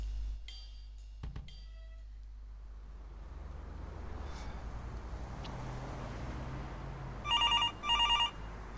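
A telephone rings twice in short bursts near the end of a scene from the video game Demetrios, following a quiet stretch of low ambient rumble and a few soft thuds.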